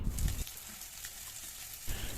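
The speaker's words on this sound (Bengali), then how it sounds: "তেল গরম হলে এখানে কালো জিরে ফোড়ন দিয়েছি" Nigella seeds sizzling in hot mustard oil in a fish-frying pan: a short burst of crackling at the start, a quieter hiss through the middle, then a second louder burst, close and with no voices.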